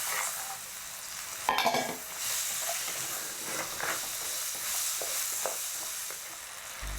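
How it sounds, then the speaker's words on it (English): Carrot and capsicum sizzle and fry in a wok with rice oil and ras el hanout spice while a utensil stirs and scrapes through the pan, with a steady hiss throughout. "Stir in the carrot and the capsicum."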